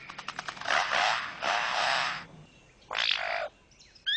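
A songbird mimics the buzzing drone of foresters' chainsaws working nearby, producing sustained rasping bursts with revving swells, preceded by rapid clicking notes and broken by short pauses.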